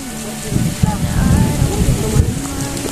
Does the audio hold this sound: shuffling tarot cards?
no